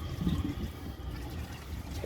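Water poured into a 1984 Kilgore Apex toilet bowl, a soft, close trickling and splashing that runs on steadily at low volume, with a slightly louder splash at the very end.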